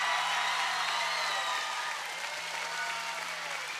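Applause fills an arena at a robotics competition during a district event at the Oregon State Fair, a steady crowd clapping that eases slightly toward the end, heard from a distance with a faint hum beneath.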